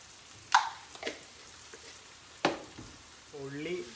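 Finely chopped onions with salt frying in a pan, a soft close sizzle under a couple of sharper stirring scrapes, with a brief voice near the end.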